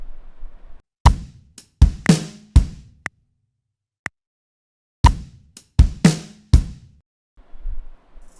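A drum kit plays a simple rock beat with the kick drum on the and of 2: a short pattern of sharp hits with deep kick thumps, a lone click in a pause, then the pattern again, close and dry.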